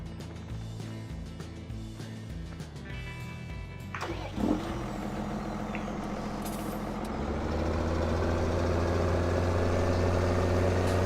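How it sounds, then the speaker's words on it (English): A tractor engine in the video game Farming Simulator 17 starts up after a hiss like an air brake, then settles into a steady low idle that grows slightly louder. "So first things first, let's get in the tractor."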